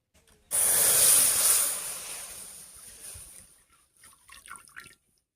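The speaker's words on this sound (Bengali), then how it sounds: "কড়াইটা পরিষ্কার করে আবার বসিয়ে দিয়েছি। এবার কড়াইয়ে দুধ দেব।" Milk is poured into a cleaned wok: a sudden loud liquid gush that eases into a thinner trickle and then a few scattered drips, close by, with no speech.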